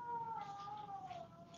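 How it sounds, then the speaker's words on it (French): A cat's long, wailing meow, sustained and slowly falling in pitch, heard clearly over the background of a municipal council meeting room with no talking during the call. "Mon Dieu, c'est un chat."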